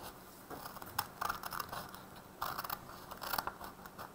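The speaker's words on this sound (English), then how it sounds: "you'll grab a pair of scissors and then you'll just cut this off" Scissors snip through a sheet of origami paper while a ninja star is being folded, giving a few quiet, crisp cuts in short bursts close to the listener, with no talk.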